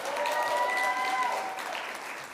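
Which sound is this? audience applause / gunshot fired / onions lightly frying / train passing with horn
audience applause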